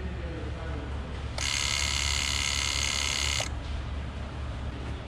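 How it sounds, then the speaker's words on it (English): The ABS pump motor of a 2007-2011 Toyota Camry Hybrid switches on with a steady high-pitched whine for about two seconds, trying but failing to hold pressure, then cuts off, over a low background hum. "The actual pump motor is still working. I can hear it trying to build pressure"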